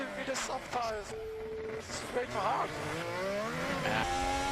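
A Formula 1 car spins out with its tyres squealing and skidding. Engine whine rises and falls under loud commentary, and the screeching tyre tone swells briefly through the middle of the spin.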